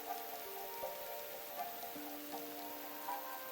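Heavy rain in the video game Deluvian Winds, a steady, even hiss of downpour with faint tonal game music layered beneath, constant and without speech.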